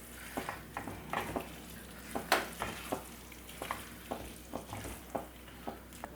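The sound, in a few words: egg roast masala being stirred and fried in pan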